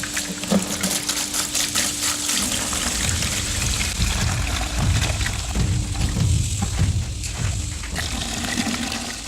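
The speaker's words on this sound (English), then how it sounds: "Then I'm just going to go ahead and pour in the hydrogen peroxide on top." Hydrogen peroxide pours over a hog skull in a container, giving a continuous trickling and splashing wash of liquid with faint bubbling.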